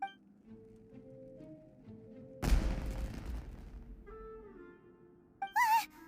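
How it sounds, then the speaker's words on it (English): In Genshin Impact, a sudden loud burst at mid-clip with crackling decay, like fireworks going off, over quiet game music, followed by a short bright chime. "It sounded like fireworks."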